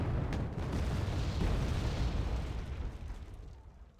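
Mortar shelling in the wartime strategy game Wargame Red Dragon, a dense continuous roar of blasts and rumbling impacts that stays loud throughout and slowly fades toward the end, with no voices.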